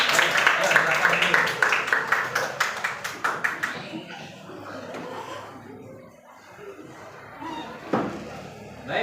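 Applause from a class of students breaks out in a burst of sharp, rapid claps for about four seconds, then fades into quiet room murmur and scattered movement.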